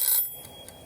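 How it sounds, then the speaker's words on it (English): Kitchen timer going off while canning strawberry jam, a short bright ring that cuts off quickly and leaves a quiet room behind it. "our timer is done"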